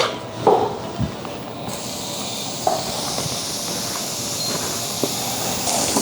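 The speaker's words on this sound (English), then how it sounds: "So we're gonna saute the onions and the garlic" Onions and garlic sauté in oil over medium heat, giving a steady broadband sizzle that swells after a quiet start. A few soft knocks and taps sound over the continuous frying hiss.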